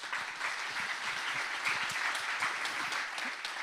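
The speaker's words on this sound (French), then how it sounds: "on peut les applaudir bien fort" Steady audience applause with dense overlapping claps at a constant level, filling a conference hall for a talk on psychedelics and depression, continuing without pause and with no voices breaking through.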